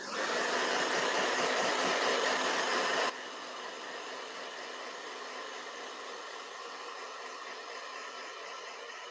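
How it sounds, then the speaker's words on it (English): A blow dryer drying paint on an artwork, a steady close whooshing roar that drops abruptly to a lower setting partway through and keeps running evenly, with no talk. "Blow dryer."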